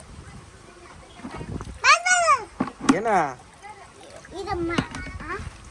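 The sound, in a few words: warm water being poured over a bathing child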